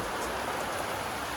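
Heavy monsoon rain pours down in a dense, constant hiss, loud and close throughout with no pauses.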